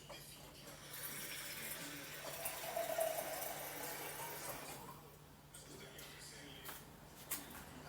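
Water pours steadily into a coffee pot, a soft running trickle under low background noise, with faint voices nearby.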